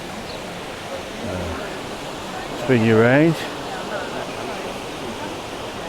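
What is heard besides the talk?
Algar waterfalls in Spain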